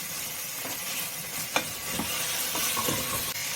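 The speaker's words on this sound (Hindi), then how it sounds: "आलू, नूकल, मूली और चोचो, इलायची बैगन डालकर मिक्स कर लेना" Mixed vegetables, including potato, radish, chayote and eggplant, stirred into ginger and garlic in a pan over a steady close sizzle, with periodic scraping and knocking strokes of a spoon.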